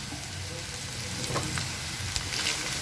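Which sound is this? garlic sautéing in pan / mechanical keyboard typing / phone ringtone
garlic sautéing in pan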